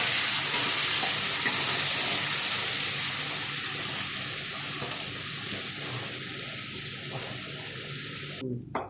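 Mustard seeds, cumin, green chillies, garlic, ginger and curry leaves frying in hot oil give a steady, close sizzle and hiss that fades slightly over time, ending with a brief clatter.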